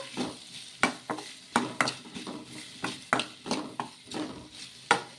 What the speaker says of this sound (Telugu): చింతపండు కూడా వేసుకొని ఒకసారి కలిపేసుకుందాం బాగా